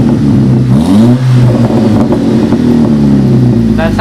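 A Volkswagen MK6 GTI engine with a new downpipe exhaust revs loudly up close, its deep exhaust rumble rising and falling through two throttle blips before settling into a steady drone.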